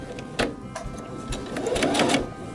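A sewing machine back tacks across the strap end of a tote bag, running in short mechanical bursts with rattling stitches and brief pauses, close and fairly loud.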